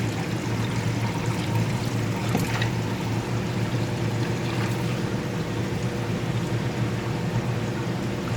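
Water and African tropical fish are poured into an aquarium tank, giving a steady, close pouring and splashing rush that lasts throughout.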